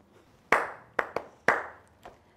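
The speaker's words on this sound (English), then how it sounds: "See how I'm clapping for you?" One person claps hands slowly and unevenly, five sharp, close claps spaced apart in a quiet indoor room, the last one softer.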